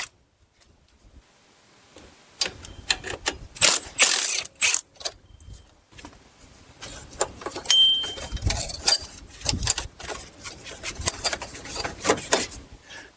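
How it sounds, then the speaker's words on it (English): A ratchet wrench loosens two 10 mm bolts holding the ABS sensor and brake line to a Buick Lucerne strut. Close, sharp clicking comes in short bursts, then runs into longer, denser stretches of ratcheting. "remove the two 10 mil bolts holding the ABS sensor over here"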